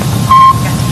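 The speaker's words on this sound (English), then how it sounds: "That was the only thing Sputnik really did, was beep." A single short, pure electronic beep from the 1957 Sputnik satellite radio signal, clear and loud against a low background hiss.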